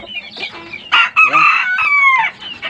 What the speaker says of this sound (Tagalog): nakakahon na yung ating mga manok